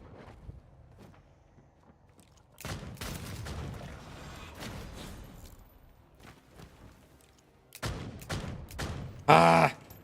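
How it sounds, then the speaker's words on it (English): Gunfire in the video game Bloodhunt: scattered shots and bursts under a busy game soundscape with footsteps, mid-loud and fairly close, capped by one sharp loud burst near the end. "How many people are shooting me right now?"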